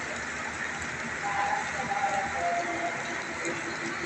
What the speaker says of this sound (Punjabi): ਇਹ ਬੂੰਦਾ ਬੰਦੀ ਨਹੀਂ ਵੱਡਾ ਮੀਂਹ ਪੈ ਰਿਹਾ